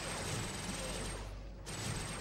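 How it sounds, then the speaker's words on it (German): Rapid gunfire from the video game TimeSplitters: Future Perfect rattles continuously, with a brief lull before resuming, all fairly quiet and dense. "Guter Schuss, Cortez."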